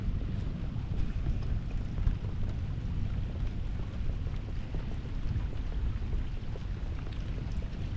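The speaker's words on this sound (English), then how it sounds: "the rain is really welcome." Steady rain falls on a sailing catamaran in moderate wind, a continuous dense patter mixed with wind rush and water noise, even and unbroken throughout with no one talking.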